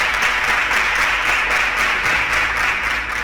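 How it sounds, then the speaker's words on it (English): Studio audience applause on a televised quiz show, a steady dense wash of clapping held at an even level for the whole stretch, fairly close and without talk over it. "Please, a round of applause for all of them."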